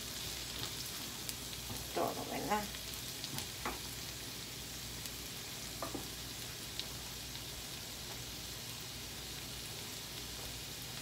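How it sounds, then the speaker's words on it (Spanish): Tomato sizzles in a pan with machaca, a soft steady frying hiss with a few faint stirring clinks and pops, quiet and continuous with no talk. "Ahora le vamos a poner aquí el jitomate para que se dore también"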